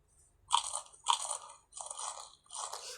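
Crunchy bites and chewing from a mobile video game, My Play Home Plus, at a home meal, in four close, bright bursts separated by short pauses, with no talk.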